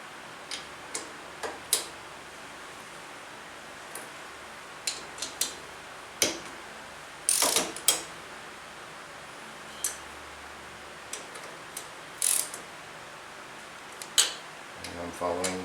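Bolts on a Briggs & Stratton Intek engine cylinder head being tightened in torque sequence, giving a run of faint, sharp ratcheting ticks and clicks in irregular short bursts, close by in a quiet room.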